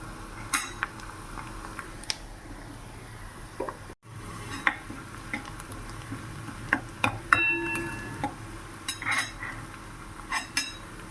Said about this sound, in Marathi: लसूण थोडा वेळ छान फ्राय होऊ देऊ